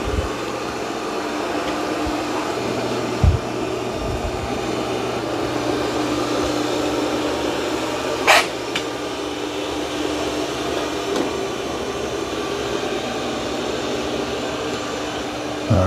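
Ecovacs Deebot T30S robot vacuum running over carpet: a steady, broadband whooshing suction drone held at an even level, with a few faint clicks and thumps and no talking.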